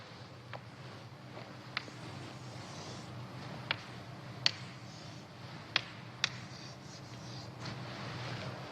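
A pen or chalk writes out a long number, a series of faint scratchy strokes and sharp little taps spaced irregularly over a soft background hum, no talking.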